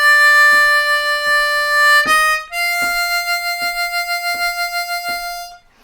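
A Bb harmonica plays a slow blues lick with clear, sustained reedy notes, one held long tone leading into a steady pulsing passage, close and solo with no voices.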